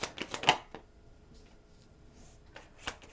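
Tarot cards are shuffled for a reading, a quick burst of riffling flicks at the start, a quiet pause, then a few more soft card slaps near the end.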